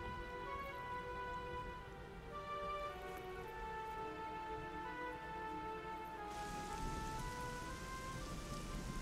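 Steady rainfall patters in the video game Dragon Quest XI, a constant hiss layered over soft melodic game music.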